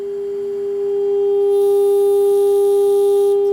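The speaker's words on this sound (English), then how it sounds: "Pretty loud tone right there" Loud, steady electronic test tone from an HP 8561E spectrum analyzer under repair, a pure continuous pitch with faint harmonics, swelling slightly and holding constant with no other sounds.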